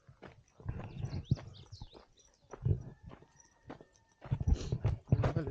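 Donkey hooves clip-clopping on a path at the Fint oasis near Ouarzazate, Morocco, with a man riding the donkey; uneven footfalls come and go at moderate distance, with a few faint sounds alongside.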